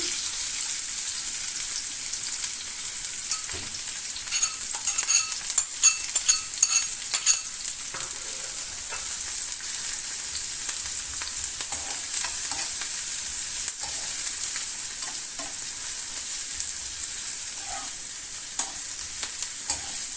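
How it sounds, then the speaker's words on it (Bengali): Chopped onions and green chillies frying in oil in a pan while being stirred, a steady bright sizzle with scattered scraping and clinking from the stirring, continuous and close. "পেঁয়াজ আমি নেড়ে চেড়ে কিছুক্ষণ ভালো করে ভেজে নেব"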